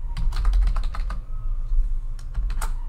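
Fingers tap on a computer keyboard in quick bursts with short pauses between them, close and clear over a low background hum.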